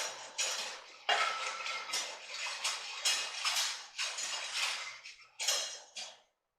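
Spoon scraping and stirring cornstarch into Korean beef in a crock pot slow cooker, a steady run of gritty, rhythmic strokes against the pot, close and moderately loud, with no talking.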